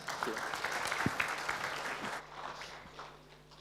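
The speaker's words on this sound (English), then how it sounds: "Big round of applause." Audience applause at a hackathon event as a team finishes on stage, a moderate crowd clapping steadily and then thinning out, with faint voices underneath.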